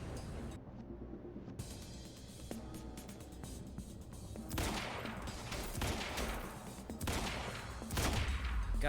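Rapid submachine gun bursts in the shooter game Quantum Break, loud and close, firing in repeated volleys over a rumbling game soundtrack with no talk.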